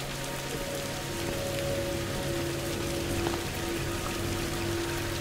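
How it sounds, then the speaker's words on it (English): Rain falling in the video game Viewfinder, a steady even hiss of drops on surfaces with a faint tonal hum underneath, no talking. "Look at the rainfall. The rain just fell like this and it just changed at the last minute."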